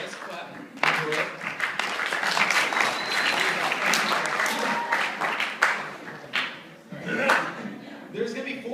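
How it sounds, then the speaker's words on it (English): Improv show audience applauding and clapping steadily for several seconds, a dense broadband patter with a brief dip and a renewed burst near the end, with some voices mixed in. "Yes, clap."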